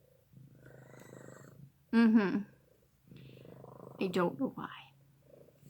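A pet cat purrs softly and close in a steady low rumble. A person speaks over it twice in louder bursts.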